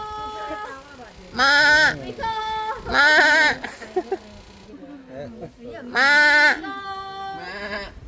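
Crossbred goats and merino sheep at a farm park bleat loudly and close by in several wavering calls, with softer bleats and animal noises filling the gaps between them.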